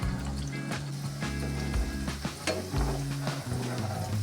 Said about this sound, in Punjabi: ਅਸੀਂ ਇਹਨੂੰ ਦੋ ਬੈਚ ਵਿੱਚ ਫਰਾਈ ਕਰਾਂਗੇ ਬਸ ਇੰਨੇ ਕੁ ਬੋਲਸ ਅਸੀਂ ਪਹਿਲੇ ਫਰਾਈ ਕਰਾਂਗੇ